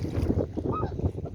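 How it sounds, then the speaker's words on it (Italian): Wind gusts on a beach at Arbatax, Sardinia, buffeting the microphone with a low, rough rumble throughout a brief moment. "E il vento la porta via."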